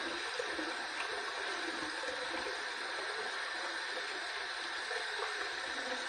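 Hot water runs steadily from a tap onto a Pearl antique brass razor, giving a continuous, even hiss and splash with no talking.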